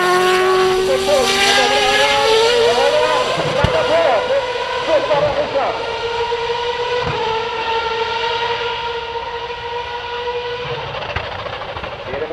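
Williams Formula 1 car at Gelleråsen race track screams with a high, sustained engine whine that slowly falls in pitch as it passes, with people talking in the background.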